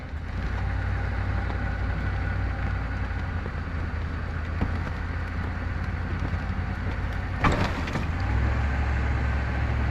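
Truck engine stuck on ice, a steady low rumble with light throttle held throughout and a brief louder burst of spinning noise near the end.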